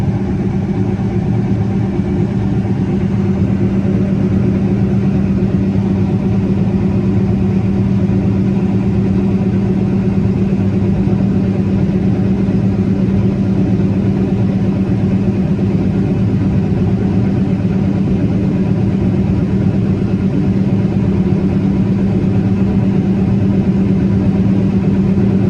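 Grain tank augers run while unloading grain into a truck, a steady, unbroken mechanical drone with a strong low hum that holds level throughout.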